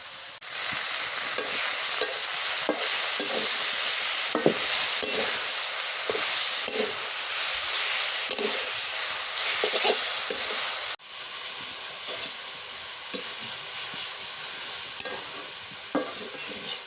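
Broiler chicken with green banana is stirred and fried in oil, a dense continuous sizzle with repeated scraping strokes of a spatula, briefly dropping in level partway through before carrying on at a slightly quieter pitch.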